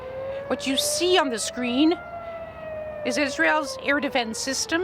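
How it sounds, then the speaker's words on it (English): Air raid sirens wailing over Jerusalem during an Iranian attack on Israel, a steady rising and falling tone carrying on under a news presenter's narration throughout. "What you hear is the air raid sirens in Jerusalem and many other cities."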